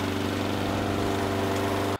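Push lawn mower cutting a 30-acre field, a steady droning engine hum running continuously and loud before cutting off abruptly at the end.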